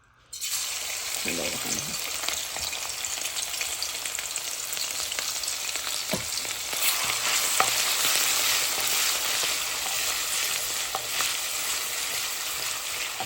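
Crushed garlic frying in about three tablespoons of oil in a wok, a steady loud sizzle starting abruptly and continuing throughout, with occasional stirring scrapes and no talk.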